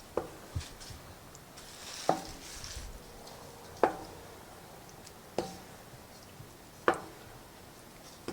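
A spoon works through tomato stew in a pot, knocking against the side in sharp, evenly spaced taps roughly every one and a half seconds, close and fairly quiet, over soft background noise.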